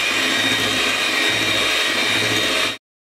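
Electric hand mixer whirring steadily as it beats coffee butter cake batter with vanilla, a continuous close motor drone that cuts off abruptly near the end.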